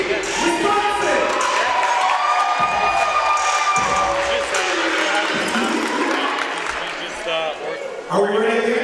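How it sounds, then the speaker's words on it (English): Spectators at a Grade 7 all-star youth basketball game clap and cheer for the Wisconsin team in a gym, with an announcer's voice and sneaker squeaks mixed into the crowd noise. "Ladies and gentlemen, please, big round of applause."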